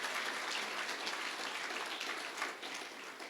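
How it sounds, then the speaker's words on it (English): Audience applause fills an awards banquet hall, a steady dense clapping wash that holds at an even level throughout with no voices over it. "let's give them a hand of applause"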